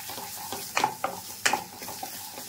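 Chichinga bharta, a mashed snake gourd dish with a pinch of sugar, stirred in a pan, giving a few quick scraping strokes and soft clinks over a gentle continuous sizzle, close by.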